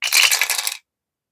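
Three dice rolled together for a Skyrim board game, giving a bright clattering rattle of several hard tumbles that runs close and loud for under a second, then stops dead.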